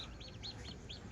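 Newly hatched chicks of a good breed cheep in a quick, even series of faint, high peeps, about five calls in just over a second.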